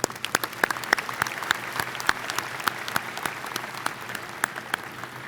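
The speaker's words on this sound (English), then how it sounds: "Please recognize these individuals with your applause." Commencement audience at a university graduate school ceremony applauding steadily in a large hall, a dense spread of claps with a few sharper individual claps standing out, sustained for several seconds at moderate distance.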